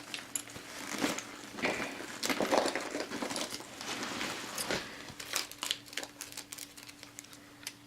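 Paper receipts from Ikea and Jean Coutu crinkle and crumple in quick, soft bursts, close by and fairly quiet, with brief pauses between handfuls.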